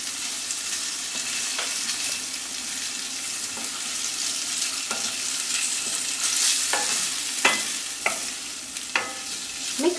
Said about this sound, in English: Let it pan fry a little.